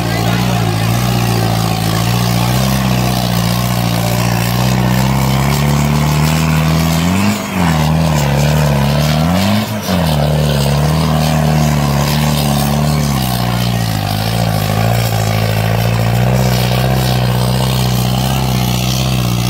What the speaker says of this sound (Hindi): ये था भाई ट्रैक्टर